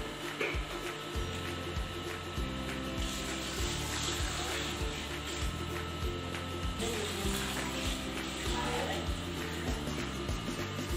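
Homemade mutton chop stock (yakhni) poured steadily into a cooking pot for pulao, a soft continuous watery rush lasting several seconds, faint and partly buried under steady background music.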